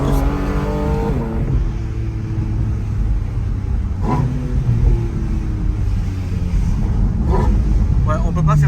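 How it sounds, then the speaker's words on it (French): A Porsche engine drones steadily while driving, with a low rumble and rising rev sweeps, heard under a person talking throughout. "on a réellement le son, le vrai son Porsche"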